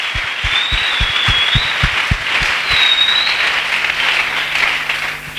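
A church convention congregation in Dolisie applauds continuously for several seconds, dense and loud clapping close around the listener with a few cheers, with no talking.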